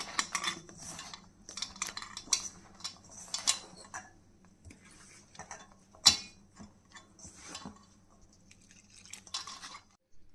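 Onion pakoda dough being mixed by hand in a bowl, with soft irregular squishing and clinking contacts against the bowl, one sharp clack near the middle, at close range with no talking.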